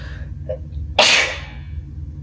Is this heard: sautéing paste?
no